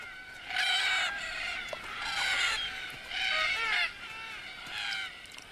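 A flock of Banks's black cockatoos calling at dusk by an Australian waterhole, harsh raspy cries coming in repeated bursts, moderately distant over a faint background.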